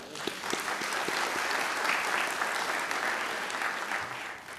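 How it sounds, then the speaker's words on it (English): An audience at a police chief's swearing-in ceremony gives the Congresswoman a round of applause, a sustained, fairly loud wash of many hands clapping together that stays level and eases off slightly at the end. "please give her another round of applause."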